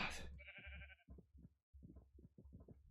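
Sheep in the Minecraft video game bleat in a quick series of short, wavering calls, loud and close at first, then repeating in choppy bursts with a brief pause midway, and no talk.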